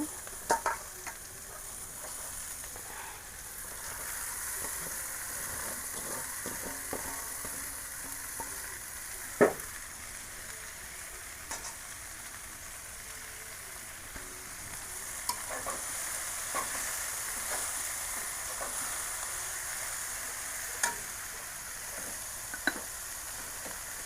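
Kalmi greens, freshly picked from the field, sizzle steadily in hot oil in a village kitchen while being stirred, with intermittent scraping clicks of the spoon across roughly 24 seconds; no one speaks.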